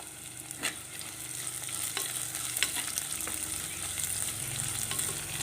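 Finely chopped ginger and long-sliced garlic fry in oil for a fish curry, giving a steady quiet sizzle broken by a few light stirring taps, with no speech.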